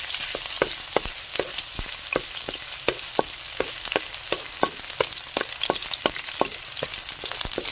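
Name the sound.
onion and garlic frying in a pan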